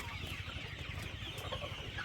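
Golden chickens on a poultry farm cluck softly in a low, continuous chatter heard from a short distance, faint and without voices.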